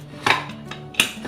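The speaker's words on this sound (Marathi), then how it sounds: "आता आपण झाकण खोलून बघूया।" A pressure cooker lid is opened after four whistles while making pav bhaji for eight, giving two clear metallic clanks about 0.7 seconds apart with a soft knock between, close and fairly loud with no talk.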